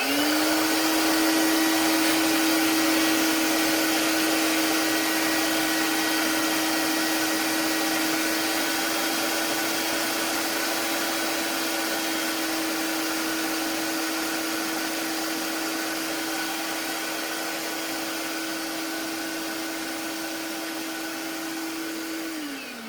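A vacuum cleaner roars at steady close range as it sucks up wood chips and dust left by a CNC roughing pass, its pitch holding level before winding down at the end.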